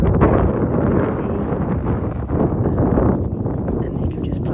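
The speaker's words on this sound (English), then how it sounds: "So it's so windy." Strong wind gusts buffet the microphone at a sandy cove beach near Llanystefan in Wales, a loud continuous roar with rumbling low-end noise and no pause.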